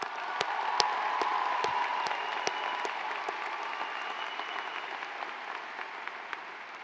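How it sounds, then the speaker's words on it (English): An audience at a college graduation ceremony applauds, a sustained dense clapping with crowd murmur that fades slightly toward the end. "Let's give them a round of applause."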